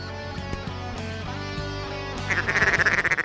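Wild ducks quack in a loud burst of repeated, rhythmic calls as they come in tight over decoys on a waterfowl hunt, the calling swelling close after a steadier hum of background sound.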